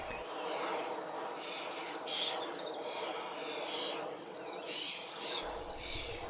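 Young starlings in a London park calling loudly, a busy stream of chirps and chattering calls at moderate distance, continuous through the clip over a soft outdoor background.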